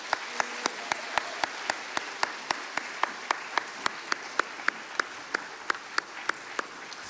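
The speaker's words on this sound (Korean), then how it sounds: "우리 여호수아 들어가는 동안 박수로 격려해 주시겠습니다." A church congregation claps in a steady rhythmic beat, roughly three sharp claps per second in unison, as a youth group walks in during a worship service.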